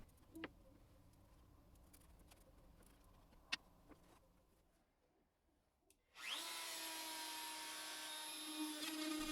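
A router cutting out wood for a bow tie inlay on a workbench-style tool cabinet. Faint workshop ticks and a brief near-silence come first, then the router bursts in loud and close and screams steadily to the end.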